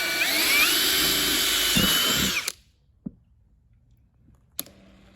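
A power drill fitted with an 8mm bit whines loudly and steadily for about two and a half seconds before stopping abruptly, followed by a couple of isolated sharp clicks in near silence.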